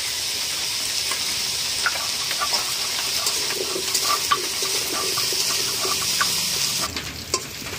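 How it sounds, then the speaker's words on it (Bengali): Washed potato pieces sprinkled with salt fry in hot oil, a constant bright sizzle with occasional stirring scrapes and light clinks of a utensil against the pan. "এবার আমি আলুগুলোর মধ্যে অল্প পরিমাণ লবণ ছিটিয়ে একটু ভালো করে ভেজে নেব।"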